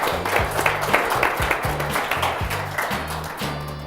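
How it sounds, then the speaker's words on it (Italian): Audience applause at a cycling trophy event, scattered distinct claps over a low, rhythmic pulsing hum in the background. "Grazie a te, un applauso."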